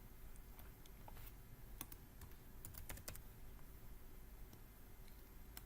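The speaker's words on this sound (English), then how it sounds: "Let me actually type that in." Steady typing on a computer keyboard, a quiet, close patter of key clicks with a few sharper taps, alone and low in level.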